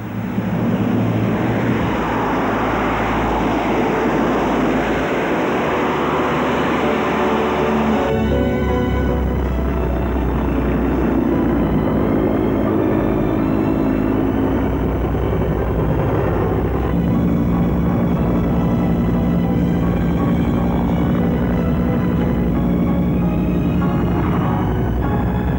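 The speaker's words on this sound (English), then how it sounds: "There has been extensive work done on planes that take off and land vertically." Engine roar from an experimental vertical takeoff and landing aircraft, a loud, sustained broadband drone with a steady tonal hum that shifts in character partway through, with no talk over it.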